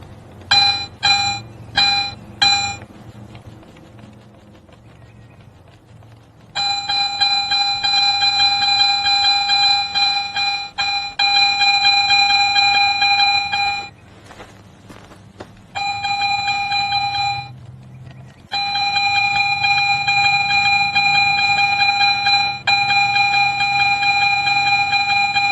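A Garrett metal detector sounds its target tone while pinpointing, first as a quick run of short beeps, then as long, loud, steady electronic tones broken by brief gaps as the coil sweeps back and forth.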